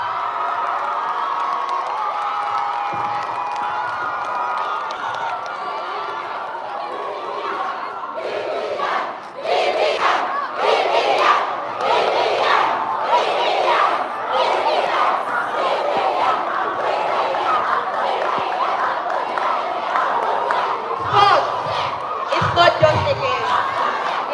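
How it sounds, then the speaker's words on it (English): A large crowd at a UTGSU convention welcomes a speaker to the podium with loud cheering, whooping and shouting, rising in waves and surging again near the end, with scattered clapping mixed into the sustained roar. "A round of applause."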